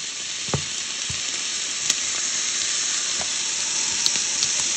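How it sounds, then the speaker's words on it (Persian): Walnuts sautéing in a hot pan give a loud, steady sizzling hiss close by, with a few faint clinks and stirring taps over the continuous frying. "شروع میکنیم همه رو با هم تفت میدیم. گردوی یه هوا باید تفت بگیره."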